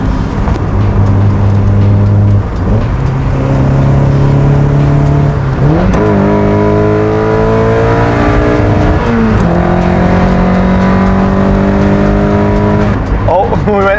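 A 1990s NA6 Mazda Miata racecar running Megasquirt engine management revs hard on a dyno, its loud, close engine note climbing in pitch over and over in repeated pulls with brief drops between them.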